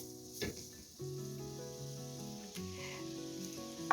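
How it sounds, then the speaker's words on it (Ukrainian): Grated beetroot stews in a preheated frying pan with vegetable oil, giving a steady close sizzle under faint kitchen noises, with a short clatter near the start and another at the end. "Натертий бурячок будемо протушкувати."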